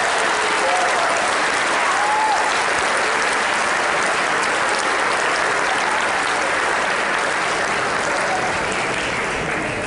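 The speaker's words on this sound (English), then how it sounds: "a round of applause for our inductees and our current members" Audience applause at a 2013 National Honor Society induction ceremony, a dense, steady wash of clapping from a large crowd that continues for about ten seconds, fading only slightly toward the end.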